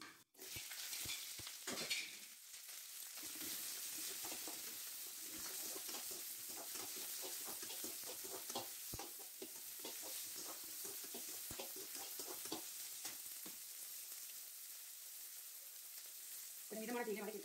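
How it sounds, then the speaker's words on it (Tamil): Pirandai (adamant creeper) sautés in hot oil with a loud, continuous frying sizzle. It is broken by frequent crackles and pops and by a few sharp clicks near the start. "நம்ம பிரண்டையை முதல்ல வதக்கி எடுத்துக்கலாம்."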